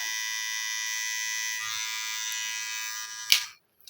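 An electric hair clipper hums with a steady high-pitched buzz, close and constant, then clicks off abruptly near the end.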